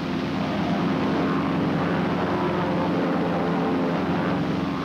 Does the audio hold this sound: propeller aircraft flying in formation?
yes